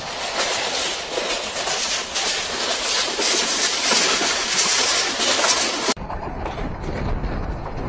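Rupsha Express passenger train running at about 85 km/h, a loud continuous rush of wheels and wind with rail clatter heard from on board, changing in tone near the end.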